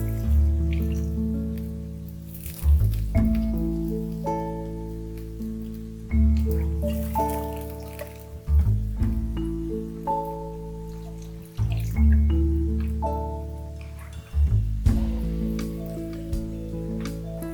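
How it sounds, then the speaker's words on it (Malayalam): Water is poured into a pan of vegetables for oats upma in several separate bursts, each a sizzling splash that fades, close and fairly loud, with no talking. "ഇതിലേക്ക് നമുക്ക് വെള്ളം ചേർത്ത് കൊടുക്കാം."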